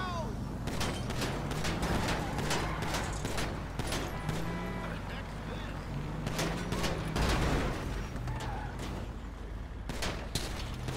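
Video game gunfire crackles in repeated sharp bursts and volleys, near and fairly loud, over a continuous low rumble, with bursts coming in clusters through the whole stretch.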